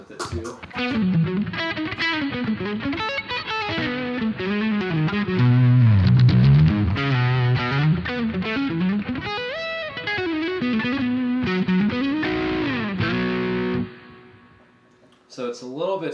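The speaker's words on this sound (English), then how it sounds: "I'll do a little bit of distortion with it too." A PRS electric guitar's neck pickup, wired in parallel coils, is played through mild distortion, with sustained gritty chords and melodic lines for most of the passage, then it briefly drops off before a final strum.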